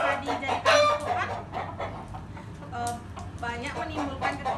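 Chickens near a house keep up loud, close clucking and cackling in uneven bursts, with crowing calls mixed in over a low background hum while a person talks.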